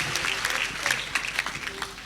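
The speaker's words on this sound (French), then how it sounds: "Acclame Jésus." A church congregation at a French-speaking service applauding to acclaim Jesus: brief, steady clapping from many hands, fairly close and filling the short moment.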